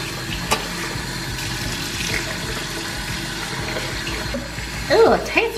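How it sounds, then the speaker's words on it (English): Tap water runs steadily at moderate volume while a face mask is rinsed off, with splashing bursts near the end and a faint voice. "Okay, rinsing off."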